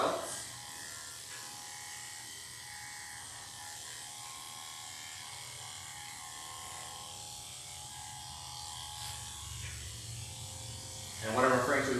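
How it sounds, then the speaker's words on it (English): Electric clippers buzz steadily while shaving against the hair on a dog's muzzle during grooming, a continuous close hum running throughout with a louder burst near the end. "I'm going to shave against the hair on her muzzle and with the hair everywhere else."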